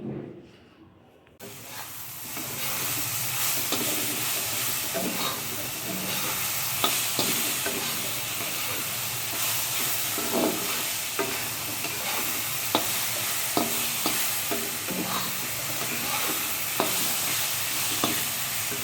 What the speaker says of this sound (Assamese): এতিয়া কচু ভাজি আছোঁ, কচুখিনি বনাই আছোঁ আগতে।